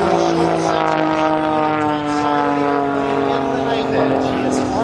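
Aerobatic propeller airplane diving at the Abbotsford Airshow, a loud, steady engine drone with strong droning harmonics holding throughout, heard up close with a commentator talking over it.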